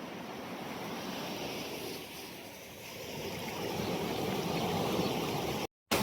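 Water flows in a nearly full IBC irrigation canal heading to Almel near Narayanpur, a steady, broad rushing roar that swells slightly midway, then cuts out abruptly just before the end.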